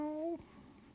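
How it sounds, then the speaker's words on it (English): A single short, tonal meow, steady and fairly close, cutting off abruptly and followed by quiet room noise. "My cat's making funny meow meow sounds."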